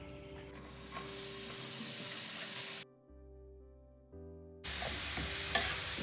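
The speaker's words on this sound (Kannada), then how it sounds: "ಪ್ಯಾನಿಗೆ ಎಣ್ಣೆ ಹಾಕೊಂಡು ಈರುಳ್ಳಿ ಮತ್ತೆ ಕರ್ಬೇವಿನ ಸೊಪ್ಪನ್ನ ಹಾಕೊಂತ ಇದ್ದೀನಿ" Onions and curry leaves fry in hot oil in a pan for a chickpea bassaru tempering, a loud, steady sizzle with stirring that drops out briefly before resuming.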